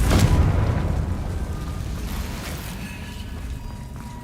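A booming fiery blast from the Confringo spell in Hogwarts Legacy, loud at onset and then rumbling away into a long fading roar with no talk.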